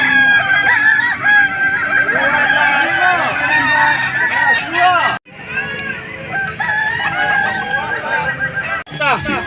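Kukuak Balenggek roosters at a 2024 crowing contest in Padang crow loudly and up close in long multi-step calls, several birds overlapping almost nonstop with two brief gaps, over faint crowd murmur.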